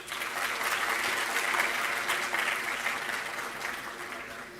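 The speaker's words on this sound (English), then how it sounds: "And for that, you all deserve a round of applause." Applause from the graduating batches and guests at a convocation ceremony, a steady, dense wash of many hands clapping that swells slightly in the middle and holds throughout, with no speech over it.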